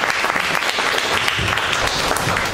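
An audience at a book launch applauds, a dense steady clapping from a full room that holds at an even level throughout the short moment, with no talking over it.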